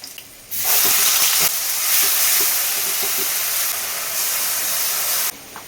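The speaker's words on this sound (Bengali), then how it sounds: "এরপরে কাঁচা পেঁয়াজের গন্ধ যাতে না ছাড়ে, আমি পেঁয়াজ বাটাটা এখনই দিয়ে দেবো।" Onion paste drops into hot oil with a sudden loud burst of sizzling that holds steady for about five seconds, punctuated by light taps of a spoon, then cuts away abruptly.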